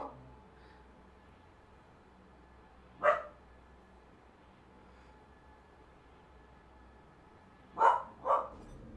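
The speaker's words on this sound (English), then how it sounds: "You have to excuse the barking. I've got a dog babe." A dog being dog-sat indoors lets out one sharp bark, then after a long quiet stretch two more barks close together, fairly near against a low, steady room hum.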